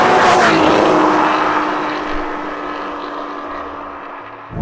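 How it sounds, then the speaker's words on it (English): Porsche 981 GT4 engine blipping on a downshift into second gear at about 20 mph, a loud burst of revs and broadband roar that settles into a steady drone, with a sustained tone running underneath. "This, you do 20 miles an hour and shift down into second, it sounds so naughty."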